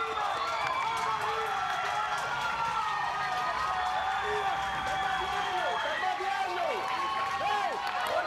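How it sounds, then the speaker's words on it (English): Latin American crowd at a Little League softball game cheering and clapping steadily after back-to-back doubles, a broad, sustained roar in the stands with a voice talking over it. "The Latin American crowd has erupted"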